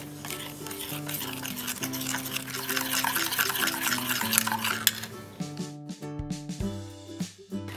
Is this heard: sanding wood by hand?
no